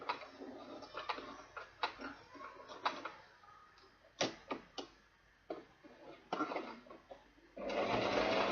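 Sewing machine stitching an ankara fabric and leather bag, running in short bursts of rapid close mechanical clatter with brief pauses between runs, ending in a longer steady whir.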